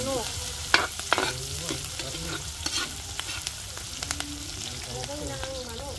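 Garlic and onion sautéing in a pan at a home cooking party, a continuous oily sizzle with scattered sharp clinks and scrapes of a stirring spoon, and faint voices in the background.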